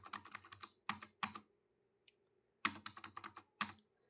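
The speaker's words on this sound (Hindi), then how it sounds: "enter enter enter enter enter करके आपको एक्सेप्ट करा देना" Computer keyboard keys pressed in quick bursts while entering a purchase return voucher in Tally Prime accounting software, crisp close clicks in two clusters separated by a pause.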